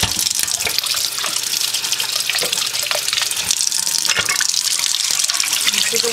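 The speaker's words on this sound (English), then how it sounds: "with some running water and rinse it using some mild dish soap until the water runs clear." Tap water runs steadily into a sink while dyed wool roving is rinsed, a continuous close splashing gush with small irregular spatters throughout.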